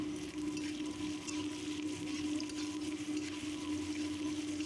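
Madhusoleng greens hit turmeric and salt in a hot karahi, giving a steady, even sizzle that holds at moderate level throughout with no one talking.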